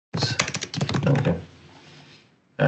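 Rapid clicking keystrokes on a computer keyboard as a customer order reply is typed, a dense burst of close taps in the first second or so, then a softer lingering tail and a brief loud return at the end.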